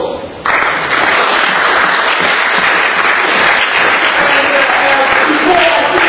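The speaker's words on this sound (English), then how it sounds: "I'm sure you all deserve a big round of applause" Sustained applause from a dinner audience at an iftar gathering in Waltham Forest Town Hall, London, a dense steady wash of many hands clapping that swells in after a brief quieter start and holds evenly throughout.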